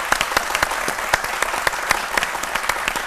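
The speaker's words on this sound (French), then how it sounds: "je souhaiterais qu'on puisse l'applaudir" Studio audience applause on a live Ivorian midday TV show, brisk rhythmic clapping from a moderate crowd with sharp individual claps standing out, steady and unbroken with no voices on top.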